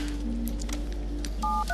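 A telephone number being dialed in The Darkness, with a quick run of short touch-tone beeps over a low steady hum, the last tones clearest.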